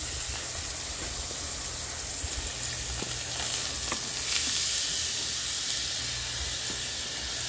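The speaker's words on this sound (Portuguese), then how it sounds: "A carne já tá cozinhando e fritando." Meat fries in a pan with oil and crushed garlic, giving a steady, close sizzling hiss with faint crackles and no voices.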